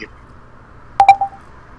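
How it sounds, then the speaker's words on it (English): Short cluster of electronic beeps, several quick tonal blips close together like phone keypad tones, standing out briefly against a quiet background during a tabletop game session. "Why is Felina making weird beeping noises?"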